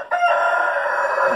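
A rooster crows close by in a single loud, sustained cock-a-doodle-doo call.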